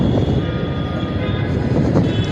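A Dhaka metro rail train runs overhead as a steady, loud rumble with a faint tonal hum, continuous over the whole stretch with no voices.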